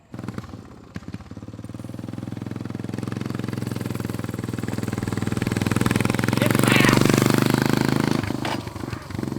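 A small mini bike engine, recovered after being buried, runs steadily with a buzzing, clattering tone that swells louder toward the end and then eases off, with no talk over it.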